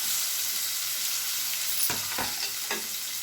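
Chopped onion pieces dropped into hot oil with cumin for a fenugreek leaf and tomato curry, giving a steady loud sizzle with a few sharp crackling bursts and stirring scrapes partway through; no talking.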